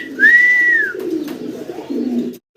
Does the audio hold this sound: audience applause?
no